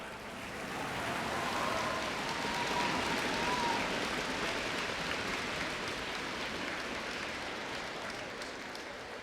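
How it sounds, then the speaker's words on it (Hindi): Applause fills an auditorium, the Samvidhan Kaksh, at a National Unity Day event: a dense, sustained wash of clapping from a large crowd that holds steady throughout and tapers slightly at the end. "और सभागार में जो तालियों की गड़गड़ाहट थी"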